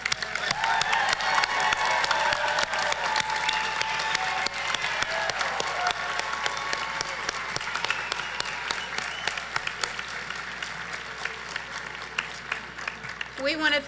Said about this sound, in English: Let's give one final round of applause to our newest PVCC